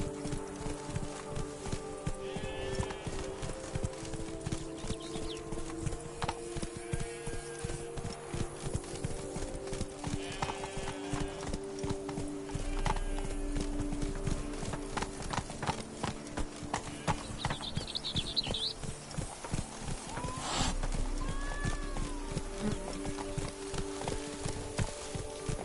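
Horse hooves clip-clopping at a quick, steady rhythm in a PS4 video game, with a few whinnies and game music and effects around it, continuous and prominent, no speech.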